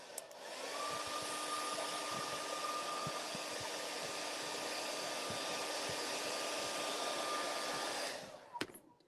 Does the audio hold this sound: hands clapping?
no